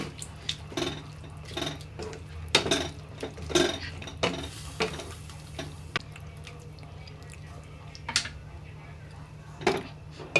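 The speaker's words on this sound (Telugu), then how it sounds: "ఒక పావు స్పూను గరం మసాలా ఇవన్నీ వేసేసి బాగా కలిపేసుకొని" Chicken curry with garam masala being stirred in a pot: scattered clinks and scrapes of a spoon against metal with soft wet sloshing, close and moderate in level, in uneven bursts over a low steady background hum.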